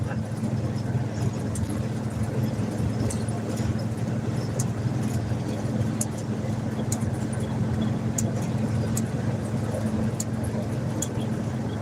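Big block V8 with a 4-barrel carburetor cruising at low RPM, a steady deep rumble with road noise heard from inside the car, constant and fairly loud throughout.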